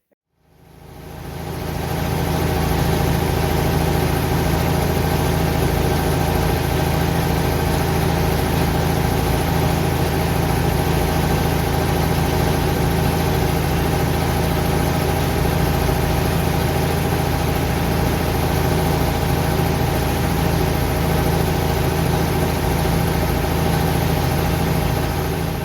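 A Ford 800 tractor engine running steadily, a loud, continuous low rumble that builds in the first couple of seconds and then holds at an even idle-like drone throughout.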